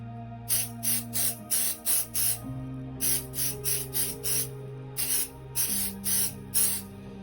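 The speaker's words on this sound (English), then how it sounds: "you're going to give it a spray and just get some stickiness on here." A spray adhesive can hisses in short sharp bursts, three quick runs of four or five sprays each, close up over a low background hum.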